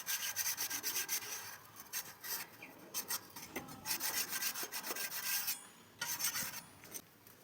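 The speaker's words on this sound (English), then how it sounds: "I will polish this surface of this brake disc so that any uneven points are there that will go" Emery paper pasted onto a wood block is rubbed back and forth across a bike brake disc, giving quiet, steady rasping strokes in an irregular rhythm with brief pauses.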